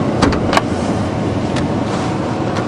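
A 1977 Pontiac Grand Prix 301 V8 idles with a steady, close engine rumble and broad hiss, a few faint clicks and knocks over the top, no talking.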